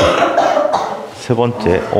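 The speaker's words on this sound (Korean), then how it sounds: "에어컨 때문에 기침하는 거야?" A few harsh coughs break through, mixed with throat clearing, close to the microphone between bits of talk.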